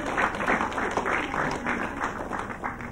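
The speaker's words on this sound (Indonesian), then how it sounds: "Tepuk tangan." Audience applause at a comedy show, a steady burst of clapping from a crowd, fairly loud and continuous, with some voices mixed in.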